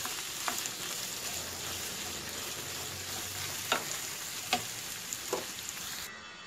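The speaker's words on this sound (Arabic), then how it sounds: "نضيفو الموزاريلا وغادي نطفيو عليه، نخلطو مزيان ونطفيو" Mozzarella filling sizzles and fries steadily in a hot pan, with a few sharp scraping clicks from stirring scattered over the continuous crackle and no talking.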